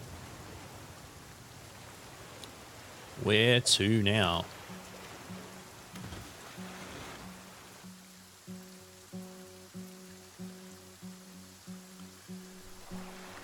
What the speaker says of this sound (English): It would be nice to find a place to get out of this rain.